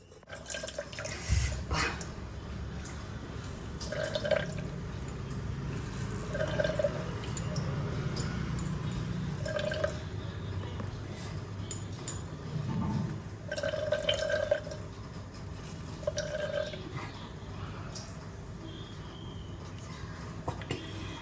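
Water runs and drips intermittently near a sink while washing chenna for cham cham, with short splashes and clinks of handling scattered through a steady background hiss.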